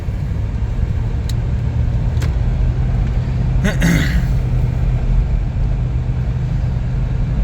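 A Land Rover on the road, its steady engine and road rumble droning continuously up close, with a few brief higher-pitched chirps and a short swell of wind or rattle partway through.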